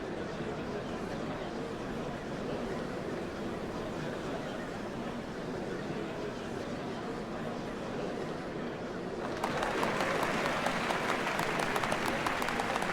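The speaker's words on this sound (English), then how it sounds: "What a crowd!" Applause from a large crowd at a ceremony for the changing of Dawn servants in a Final Fantasy XIV Dawntrail cutscene, a steady wash of clapping that swells louder and denser near the end.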